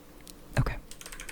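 A few close keystrokes on a computer keyboard in an ASMR roleplay, one louder clack followed by lighter taps in a brief burst.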